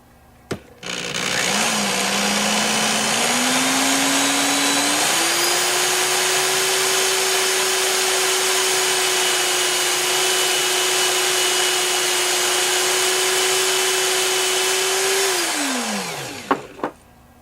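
A power drill spins a cartridge case at high speed while its neck is trimmed, giving a loud, steady motor whine for about fifteen seconds that rises in pitch partway through and then winds down at the end.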